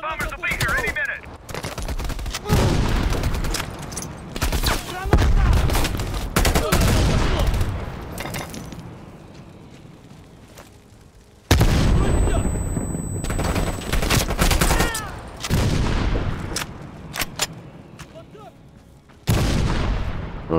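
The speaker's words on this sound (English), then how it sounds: "Orders confirmed. Bombing strike imminent. Now, the bombers will be here any minute." In the video game Call of Duty: Black Ops Cold War, a bombing strike sets off repeated loud explosions and bursts of gunfire in rapid, irregular volleys, with a voice speaking over the battle at times.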